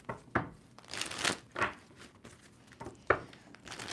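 A tarot card deck is shuffled by hand in a few quick riffling bursts with short pauses between them, crisp and close, with no voices.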